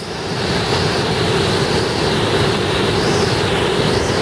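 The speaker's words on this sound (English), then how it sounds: "you have all that water coming in at a high speed like that" Roaring waterfall at Gleason Falls, with a steady, loud rush of water and heavy mist spray that continues without a break and has no voices over it.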